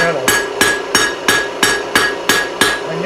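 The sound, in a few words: blacksmith hammer striking metal taper on anvil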